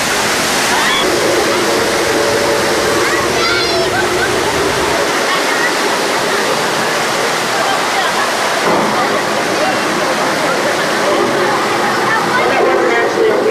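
Torrent of water rushes loudly down a hillside in a staged flash flood, 10,000 gallons released at a theme park studio tour, a steady roaring wash with splashing throughout and faint voices in the background.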